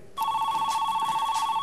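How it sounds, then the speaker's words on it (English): A telephone rings with a loud, steady electronic trill that starts abruptly and continues in pulsing repeats, close and alone, in a boxing drama trailer. "answer the phone"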